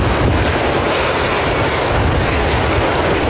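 Big ocean waves surging and crashing, a loud continuous roar of surf mixed with heavy wind buffeting the microphone, no voices.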